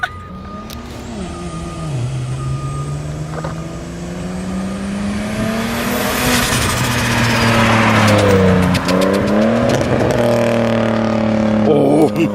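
A single-turbo BMW 335i engine revs loudly, heard from outside the car, its pitch climbing and falling through repeated strong pulls over a steady rumble, with a brief voice early on.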